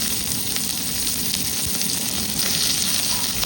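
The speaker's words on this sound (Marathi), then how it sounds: "आता याच्यामध्ये कट केलेला कांदा तुम्हाला परतून" Chopped onion fries in hot oil in a kadhai with a dense, continuous sizzle, loud and close throughout, with no pauses.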